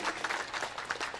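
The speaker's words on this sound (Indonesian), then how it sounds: "Tepuk tangan yang meriah untuk beliau berdua." Audience applause at a Muhammadiyah 111th anniversary gathering, a steady wash of many hands clapping that carries on evenly through the short moment.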